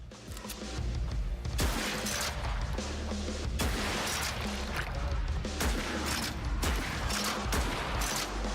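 Rifle shots crack out rapidly in Project Warlock 2, a hectic run of loud, punchy bursts with crashing impacts filling the whole stretch.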